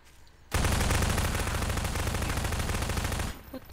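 Gunfire in Garry's Mod, a single sustained burst of loud, rapid automatic fire that starts abruptly after a quiet moment and runs for about three seconds before cutting off.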